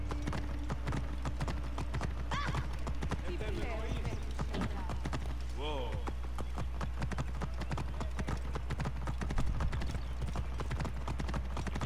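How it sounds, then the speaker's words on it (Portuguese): Horse hooves clip-clop steadily throughout while riding through Alexandria in the video game Assassin's Creed Origins, with a constant low ambient hum beneath and someone talking over the hoofbeats. "Vem a cavalo, que eu não quero saber de andar a pé aqui não."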